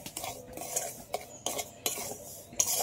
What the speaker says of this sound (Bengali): হালকা করে সুজিটা ভেজে নিয়েছি